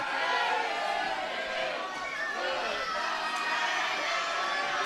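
Inside the Bullet Bob Armstrong Arena at a DCW wrestling pay-per-view, a packed crowd keeps up a steady, dense roar of massed voices, chanting and shouting together throughout.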